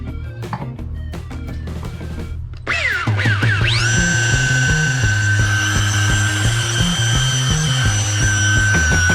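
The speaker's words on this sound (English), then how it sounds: "I think I'm gonna be just fine with just hitting it a couple times with the buffer and the polish or the compound" A power buffer runs on a boat hull with polishing compound: after a few knocks and clatters, the motor spins up into a loud, steady whine with shifting tones as it presses and moves across the surface, no voices.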